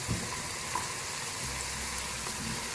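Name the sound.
yogurt and gram flour mixture frying in pan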